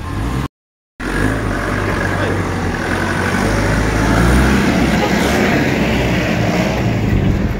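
A motorcycle passes on a road, its steady engine rumble running under nearby voices and street noise, with a brief dropout near the start.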